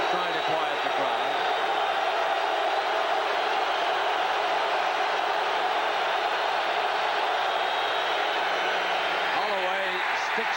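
A loud, roaring stadium crowd at a 1986 college football game between Miami and Oklahoma fills the air with dense, continuous noise for the whole stretch, with commentary voices running underneath.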